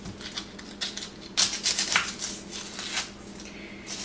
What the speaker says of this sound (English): Now with the onion, what you're gonna wanna do with this is just really kinda cut the outer layer,